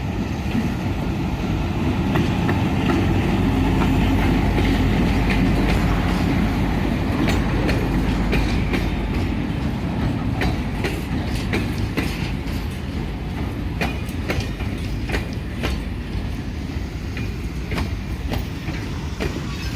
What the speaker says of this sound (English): I heard the horn, and I was like, "Oh, cool, the train!"